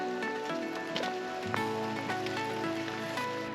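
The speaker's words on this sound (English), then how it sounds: "It's getting a little rainy." Rain falls outdoors at an RV campsite near Yellowstone National Park, a steady close patter and drip on surfaces with a few louder drops, continuous over the short stretch.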